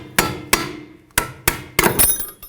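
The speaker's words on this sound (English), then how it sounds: "Just give it a tap." A hammer tapping a clip off the strut of a 2004-08 Nissan Maxima, heard as five sharp metallic knocks close by in an uneven rhythm, with the last strike ringing briefly.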